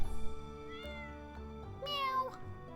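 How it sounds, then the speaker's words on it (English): A cat in a farming video game lets out a single clear meow with rising and falling pitch, set against soft background game music. "You see this cat here?"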